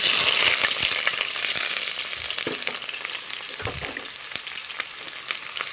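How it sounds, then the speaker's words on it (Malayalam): Sliced onions sizzle loudly in hot oil for a chicken stew, a steady dense frying hiss with occasional stirring scrapes and spatter pops, close by and without speech. "ഇനി നമ്മൾ സവാളയാണ് ഇട്ട് കൊടുക്കാൻ പോകുന്നത്."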